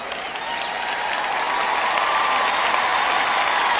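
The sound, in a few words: audience applause for mothers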